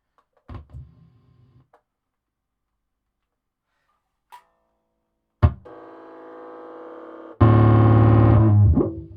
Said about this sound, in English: if I run out the headphone socket into a bass amp, do I get that thunderous distortion sound?